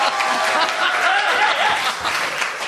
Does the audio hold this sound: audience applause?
yes